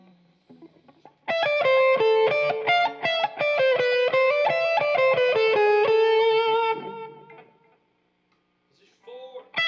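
A distorted Telecaster electric guitar plays a lead line of quick, sustained notes with effects, then stops, leaving a brief silence before another note starts.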